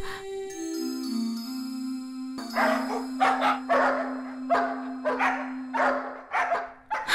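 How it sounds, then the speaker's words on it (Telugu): Cartoon dogs in an animated Telugu children's moral story bark in a rapid, loud series of yaps over a sustained musical tone. "నన్నీ కుక్కలు బతకనివ్వవు."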